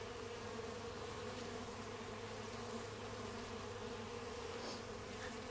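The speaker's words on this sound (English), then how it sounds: "Watch what the bees do." A low, steady drone of many bees buzzing nearby, a continuous hum with no talking.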